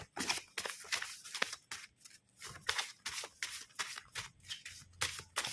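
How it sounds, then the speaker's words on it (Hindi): Tarot cards being shuffled by hand, a rapid run of crisp riffling and slapping bursts close by, with no talking. "लास्ट बार शफल करना गया जिसमें जो कार्ड्स हमें आने होंगे वही आएंगे"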